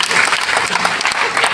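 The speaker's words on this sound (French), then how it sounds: "on applaudit pour le Didier" A live comedy show audience applauds after being urged to clap for a man named Didier, a short burst of dense, loud clapping filling the whole moment.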